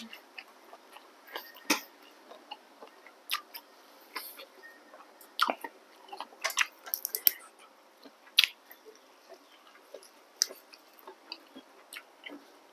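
Squid dressed with spicy pounded seafood dipping sauce and crisp fresh vegetables is chewed up close, with soft wet crunches and clicks coming in irregular bursts against near silence.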